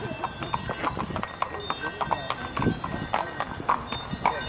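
Hooves of carriage horses clop steadily as the carriage pulls away, a rhythmic series of sharp knocks under nearby people talking.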